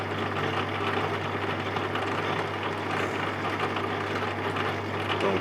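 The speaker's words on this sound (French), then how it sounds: "il y a ce bruit qui est infernal, donc qui est vraiment localisé sur le moteur" A Durst RCP50 machine runs its motor with a steady, loud hum and a whirring drone, unbroken and unchanging for the whole stretch.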